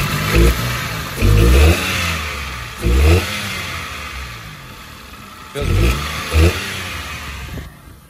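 A Citroen C1 engine fitted with bigger injectors and its airbox back on, revved in several short bursts between steady idle, close and loud.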